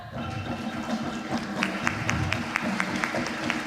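Warm audience applause at the official opening ceremony of the UISPP 2025 prehistory congress, a broad wash of many hands clapping in a large hall, steady and somewhat distant throughout.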